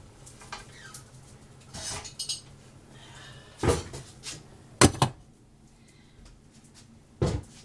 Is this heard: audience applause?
no